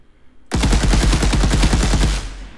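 Automatic rifle fire in an Unreal Engine third-person shooter: a loud, rapid burst of evenly spaced shots begins abruptly after a short silence and runs steadily for about two seconds before ending with a brief tail.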